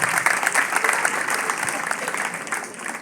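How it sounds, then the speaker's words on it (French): Audience clapping at a school excellence awards ceremony for lycée students, a dense steady wash of applause through the whole stretch with a faint voice or two mixed in. "applaudissez pour monsieur Si"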